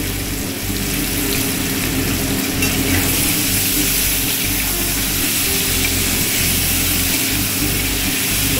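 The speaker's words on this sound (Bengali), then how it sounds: "সুন্দর করে ওলটা ভাজা হোক" Yam pieces fry loudly in hot mustard oil, a dense continuous sizzle with constant bubbling crackle up close.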